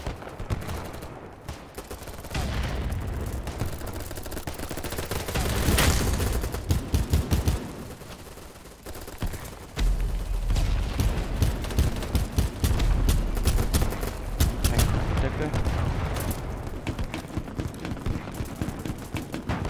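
Sustained gunfire aimed at a tank in BattleBit Remastered, rapid automatic bursts and fusillades crackling almost continuously at close range, with heavy rumbling booms underneath and brief lulls between volleys.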